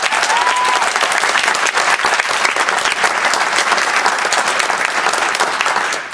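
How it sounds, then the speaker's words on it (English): Loud, dense audience applause at a TEDx event, filling the room evenly before tapering slightly at the end. "One more round of applause."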